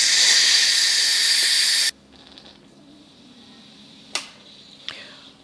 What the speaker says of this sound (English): when you push this, all the steam will come out